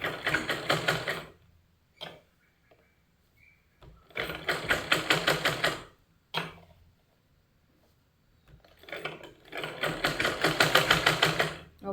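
A sewing machine stitches a neck strip onto a simple frock in three loud, steady runs of rapid needle clatter, separated by pauses of near silence, heard close up without speech.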